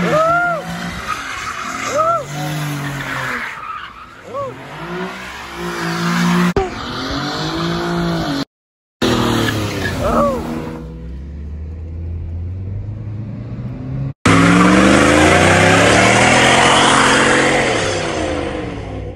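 Cars, including an old Camaro, drive and skid with loud engine revving and long tire squeals, sliding pitch sweeps and a few abrupt cuts, with voices over the roar.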